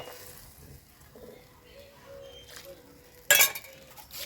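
A lid settles onto a pot of mustard fish curry with one sharp metallic clink near the end, after a few soft kitchen knocks over a quiet, steady background.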